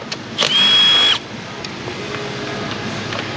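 A power tool whirs in one short burst of about a second while parts are unbolted on a Ford Escape in a repair shop, followed by a quieter mechanical hum.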